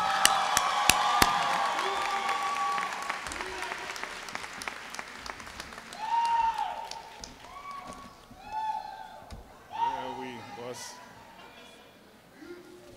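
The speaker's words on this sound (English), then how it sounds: "Applaud yourselves as we all applaud you and your wonderful accomplishments." Crowd applauds the graduating class of 2014 at a business school commencement ceremony, brisk clapping with a few whoops that thins out as a voice begins speaking over the room.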